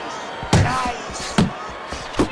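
Boxing video game punches landing, three heavy thuds spaced about a second apart, close and loud, with a faint commentator voice in between.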